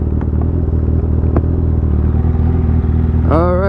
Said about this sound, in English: we are riding the Ninja H2